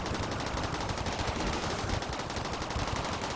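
Sustained rapid machine-gun fire from mechanoids tearing down a wall in RimWorld, a dense unbroken rattle of shots filling the whole stretch at steady loudness with no talk over it.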